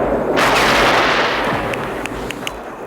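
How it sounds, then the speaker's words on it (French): A machine gun burst fired up through a floor in a film action scene: a loud, close blast that rolls into a sustained rumble, followed by a few sharp cracks as it fades. "Kobao ouvre le feu par en bas, transperçant le sol d'une rafale de mitrailleuse"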